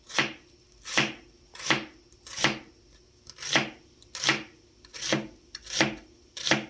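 A knife chops through a peeled vegetable on a cutting board in nine sharp, evenly spaced strokes, each a crisp close thud-crack with brief gaps of quiet between them.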